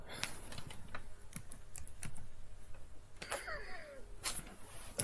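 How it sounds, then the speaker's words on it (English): Clicky keystrokes on a keyboard while searching the Android Play Store for Discord, irregular bursts of taps close by with a few louder clacks, no talking. "type in Discord."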